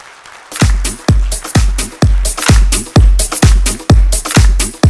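An audience at an IMC gathering claps loudly in unison, about nine sharp, evenly spaced beats with booming low thuds, steady and close, with no voices over it.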